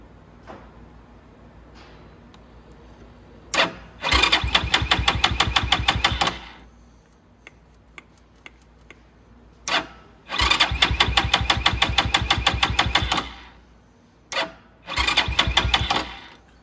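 A Venom X22r engine fitted with a Nibbi carburetor cranks and fires in three separate bursts of rapid, loud, close putt-putting, each a couple of seconds long, with quiet gaps and faint ticks between attempts.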